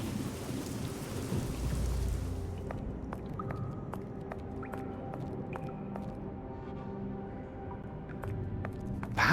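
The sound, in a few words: thunderstorm and rain in Sherlock Holmes: The Awakened video game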